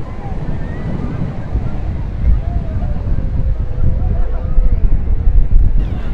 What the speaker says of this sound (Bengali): তবে আজকে সমুদ্র অত্যন্ত উত্তাল